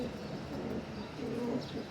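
Pigeons feeding in a loft give a low, continuous murmur of soft coos, steady and moderately close throughout, with faint chirps now and then.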